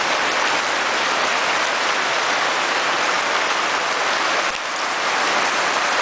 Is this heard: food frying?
no